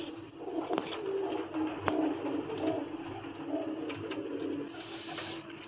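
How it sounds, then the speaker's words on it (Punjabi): Quieter, continuous low cooing from racing pigeons nearby, throaty notes blending into a soft ongoing murmur with a few faint clicks and knocks in the background. "ਆਹਦੇ ਇੱਕ ਗੂੰ ਗੂੰ ਬੜਾ ਕਰਦਾ ਬੰਦੇ ਨੂੰ ਦੇਖ ਕੇ"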